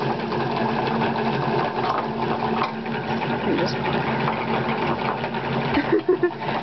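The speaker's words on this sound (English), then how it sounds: "So now we wind it onto a ball winder." Ball winder winding string into a ball, a steady whirring mechanical hum with a light rhythmic rattle, going on throughout with faint talk in the background.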